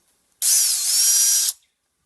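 A brand-new, never-used Stanley Fatmax cordless drill spins up alone for about a second, a loud, steady high-pitched motor whine with a brief dip in speed before it winds down.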